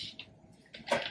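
Water is poured from a container onto a potted spider plant cutting: a soft, intermittent splashing trickle that swells near the end, close by and fairly quiet.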